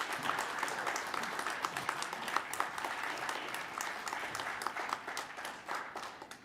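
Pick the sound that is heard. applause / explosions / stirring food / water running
applause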